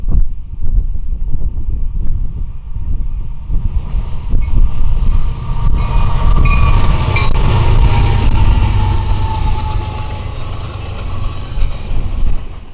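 A CN SD75M locomotive hauls a train past, a loud rumbling roar of engine and wheels that builds and holds, with gusty wind buffeting the microphone and a squealing metallic whine midway.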